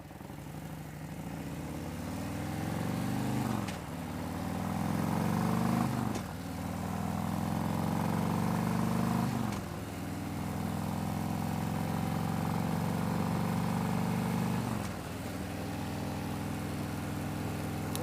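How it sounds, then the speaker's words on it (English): A motorcycle engine runs steadily while the rider shifts up through the gears during warm-up, kept under 3,000 RPM; the revs rise and drop at each of about four gear changes, loud and close, with no talking. "I'm just listening to the bike as I go through the gears here"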